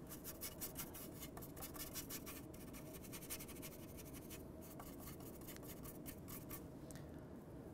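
A paintbrush scrubs acrylic paint on a painted cow background in a folk art studio, making faint, rapid scratchy strokes in irregular bursts, close and quiet.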